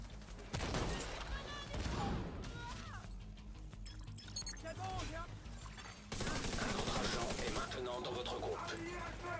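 Gunfire in The Division 2 during an invasion siege mission, with bursts of automatic rifle shots and scattered impacts, fairly close, rattling intermittently under quiet talk from players.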